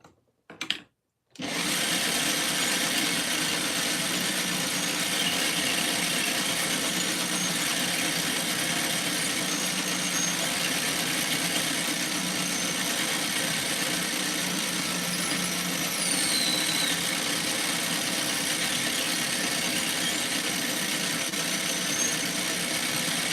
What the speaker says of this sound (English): Okay, so that's as far as that drill bit's going to go.